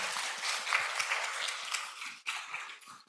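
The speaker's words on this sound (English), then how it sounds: "please join me in a round of applause for our speakers today." Applause from the audience at a psychiatry rounds session honoring the speakers, a dense broadband patter of many hands clapping steadily for about three seconds with a brief dip near the end.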